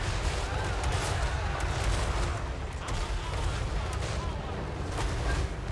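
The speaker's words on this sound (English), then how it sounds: "with all the artillery pieces focusing down the enemy artillery now, those bolt throwers will be out of the picture rather soon" Artillery and cannon fire in the strategy game Total War: Warhammer 3, a Dwarf army's guns and bolt throwers in a battle, a dense continuous rumble of booms and impacts at steady loudness throughout.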